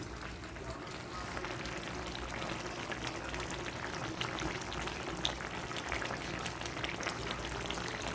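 A pot of curry with pea lentil dumplings boils quietly, giving a faint, continuous bubbling and light sizzling that stays steady throughout.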